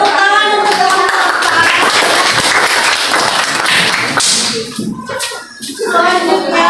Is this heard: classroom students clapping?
yes